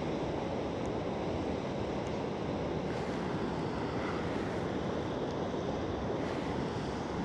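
A waterfall roars on location during a long-exposure photography shoot, a steady broadband rush of falling water that stays constant and close, with no voices over it.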